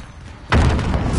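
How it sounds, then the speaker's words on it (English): A grenade explosion in Call of Duty: Modern Warfare hits as a sudden loud boom after a quiet moment, followed by a sustained rumbling roar of debris and noise. "Grenade out! Ooh, grenade kill."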